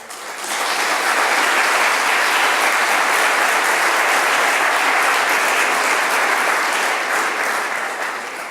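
Applause from a large audience at a 40th-anniversary awards gala of a Valencia hospitality business federation swells quickly and holds as a dense, even clapping for several seconds before tapering slightly at the end.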